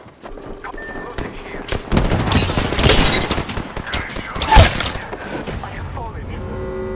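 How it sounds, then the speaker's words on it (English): Gunfire in the video game Apex Legends, with loud rapid bursts of automatic fire and sharp cracks peaking midway, mixed with game sounds and brief voice lines. "I'm taking fire."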